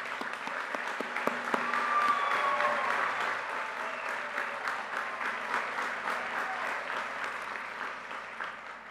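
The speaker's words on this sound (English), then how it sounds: "If we could all please give them a round of applause." Applause for the graduating class at a 2020 high school graduation ceremony, a sustained crowd of clapping with a few distinct sharp claps standing out, steady throughout.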